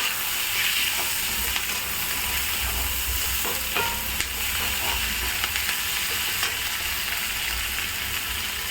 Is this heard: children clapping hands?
no